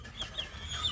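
A village chicken clucks at its nest beside a clutch of eggs, a few soft, short calls spaced across a quiet second with a low background hum.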